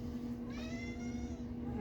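A pet cat named Beans gives a single drawn-out, close meow that lasts about a second, set against a steady low room hum.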